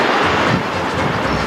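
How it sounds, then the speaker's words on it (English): Sixteen-coach passenger train with sleeping and kitchen cars on the West Highland line, a loud, continuous running roar and rail rumble, close by, with no talk. "Train is 16 coaches long,"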